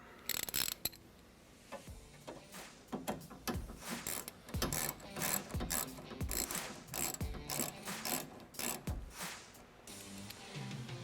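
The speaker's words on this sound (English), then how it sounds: "Come back with our T30 to tighten it up." A T30 driver ratchets to tighten the pivot knuckle screw on a Trektop soft top for a 2-door Bronco, with bursts of crisp, close clicking separated by short pauses.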